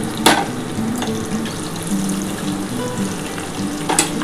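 Potatoes and chopped onion fry in hot oil in a pan, giving a steady close sizzle with a few sharp clicks and scrapes, no voices.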